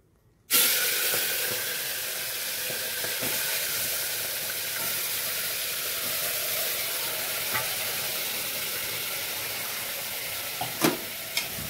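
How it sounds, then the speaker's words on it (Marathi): Chicken cooking in a pressure cooker gives off a continuous steady hiss and sizzle, close and even throughout, with a few faint clinks. "चिकन गेलेलं आहे कुकरमध्ये त्याचं कामकाज चालू झालं"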